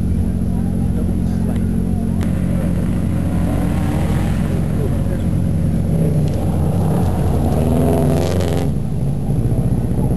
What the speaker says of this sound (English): There goes Ted and Lynn Mendham in their 2002 Subaru WRX number 9.